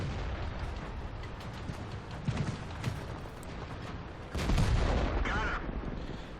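An IS-2 tank cannon fires in World of Tanks, a heavy boom rising over steady engine rumble and battle noise, with a louder blast near the end.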